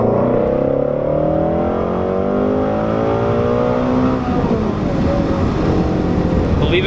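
A 2017 Shelby GT350 accelerating hard on a straight road, engine note climbing steadily in pitch through the revs, loud and sustained from inside the car with road rumble underneath.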